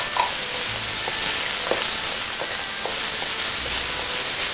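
Onion stir-fries in a pan for a vegetarian steamed dumpling filling, giving a steady close sizzle with light, regular scrapes of the utensil every second or so.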